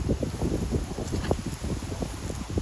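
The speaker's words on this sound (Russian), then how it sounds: "Извиняюсь, то, что так ветрено." Strong wind buffets the microphone in continuous rumbling gusts, loud and close, with no other clear sounds.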